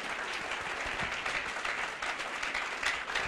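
A church congregation claps steadily throughout, a dense, even wash of applause at moderate volume with no talk standing out.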